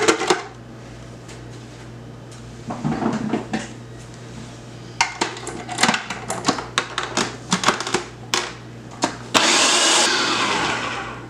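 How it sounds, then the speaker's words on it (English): A kitchen blender makes a steady hum under sharp clinks and clatters of dishes and a lid being fitted, then roars loudly near the end as it purees a beef patty filling mixture for Bajan-style patties. "I'm just gonna blend this before I go on to the next set"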